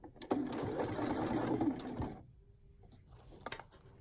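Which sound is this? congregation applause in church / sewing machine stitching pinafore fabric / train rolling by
sewing machine stitching pinafore fabric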